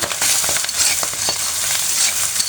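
Chopped carrot and tomato frying in a pan give a close, bright sizzle with scraping stirs and small crackles throughout, and no voices are heard.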